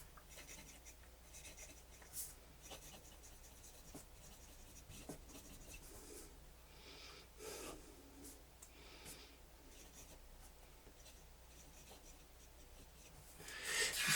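Fountain pen nib scratching across paper torn from a 2013 book, a close, faint, continuous scratchy writing sound with short strokes and pauses, ending in a louder rustle.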